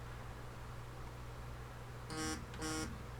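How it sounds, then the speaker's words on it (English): A phone left resting on a metal surface vibrates, producing two short buzzing rattles in quick succession over a steady low background hum, fairly close and alone. "And I left my phone sitting on something metal."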